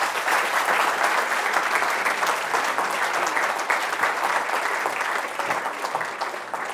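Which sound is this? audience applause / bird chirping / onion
audience applause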